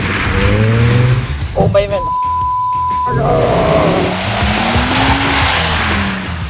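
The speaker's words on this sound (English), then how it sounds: "driving on ice on a frozen river in northern Finland" A car skidding and sliding on ice on a frozen river in northern Finland, with engine revs rising and falling and tire squeal across the clip, loud and close, as a man exclaims briefly over it.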